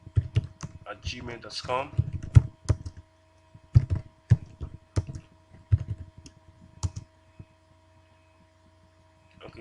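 Computer keyboard typing in quick bursts of crisp clicks, dense at first then in short separated clusters with pauses, over a steady electrical hum; someone speaks briefly at the start.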